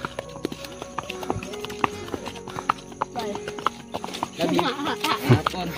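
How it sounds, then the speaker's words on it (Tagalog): Horses clop along with irregular hoof beats, a whinny rising among them, while people talk nearby. "Ang daming kabayo."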